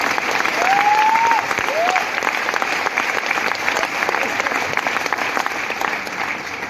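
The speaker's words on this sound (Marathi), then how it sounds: "एकदा स्वतःसाठी जोरदार टाळी झाली पाहिजे" Sustained applause from a live seminar audience at a Marathi motivational talk, dense steady clapping filling the room, with a couple of brief whistles near the start.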